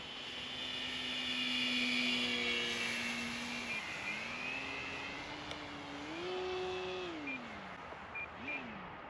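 An E-Flite Extra 300 RC model plane flies overhead, its electric motor whining in a steady tone that swells, dips and shifts pitch as it maneuvers, moderately distant and faint.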